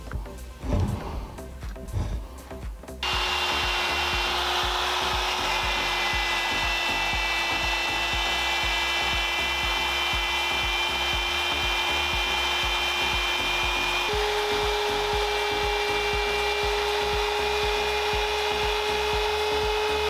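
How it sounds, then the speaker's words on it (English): A router cuts into a wooden speargun barrel, starting after a few seconds of handling noise and then whining steadily and loudly, its tone shifting slightly partway through. "it was then time to set up the router to cut it"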